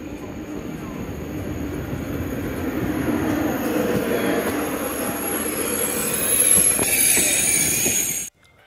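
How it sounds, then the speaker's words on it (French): A TGV Duplex double-deck high-speed train runs on rails on its way to Paris, giving a steady, loud rolling roar with faint wheel squeal that swells slightly near the end before cutting off abruptly. "Aujourd'hui, c'est une rame TGV duplex qui nous emmène à Paris."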